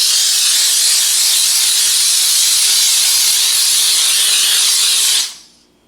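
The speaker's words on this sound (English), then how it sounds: "So you can see the power of that steam." A Grobell steam cleaner blasts a steady, loud jet of steam in a continuous hiss for about five seconds, then cuts off abruptly, leaving near silence.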